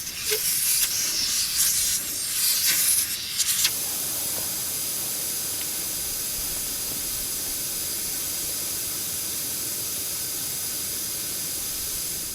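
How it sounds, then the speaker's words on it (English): Air hisses steadily out of vehicle tires through screw-on tire deflators, a constant broadband hiss close by that runs unbroken through the whole stretch after some faint handling noise at the start. "how long it takes me to actually air all 4 tires down using the screw on type"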